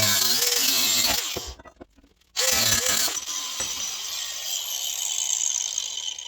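A cutoff wheel grinds through roll cage tubing in loud, harsh bursts, breaking off briefly into near silence before the cut resumes, then settling into a steadier whine.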